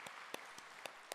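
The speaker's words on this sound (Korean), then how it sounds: "환영의 박수로 맞이하겠습니다." A church congregation gives brief welcoming applause during a Sunday service, with a few sharp, separate claps spaced evenly, faint and sparse.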